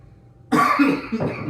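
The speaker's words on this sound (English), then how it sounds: "that's a cold cough" A single harsh cough bursts out after a moment of quiet, followed by a second rougher cough, close and loud.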